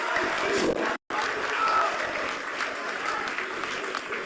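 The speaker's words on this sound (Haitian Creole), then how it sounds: "je vous demande de vous applaudir fortement, s'il vous plaît, pour cette présence" Audience applause at a speech event, a steady dense wash of clapping filling the clip, broken by one very brief dropout near the start.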